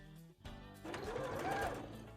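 A sewing machine stitches fabric for a jelly toy in a quick, steady mechanical whirr lasting a couple of seconds, close and clear after a brief handling click.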